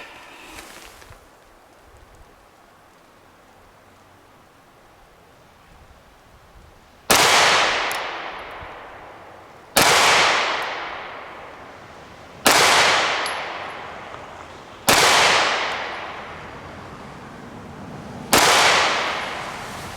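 Five loud gunshots from an M&P 2.0 9mm pistol fired at 10 yards outdoors, spaced a few seconds apart, each a sharp crack with a decaying echo, after a quiet lead-in.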